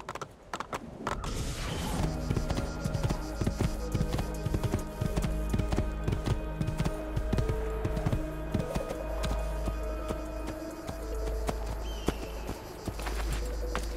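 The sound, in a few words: horse galloping in video game Assassin's Creed II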